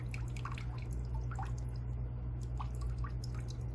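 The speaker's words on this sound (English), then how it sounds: "I like it what I'm going to call barely a drip, kind of between a drip and a stream." Slow, barely-there drip from an aquarium drip acclimation line, a few soft, irregular drops plinking over a steady low hum of equipment.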